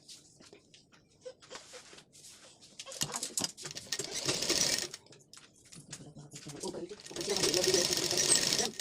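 A sewing machine stitching the neckline of a lined blouse, the main fabric with lining laid on top, running in uneven bursts of rapid mechanical whirring and clatter that swell louder toward the end, with no voice over it.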